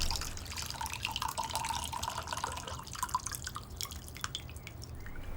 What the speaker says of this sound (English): You got to pour that tea and drink it.